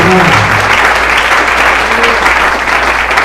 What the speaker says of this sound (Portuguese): Quem pode aplaudir o Senhor?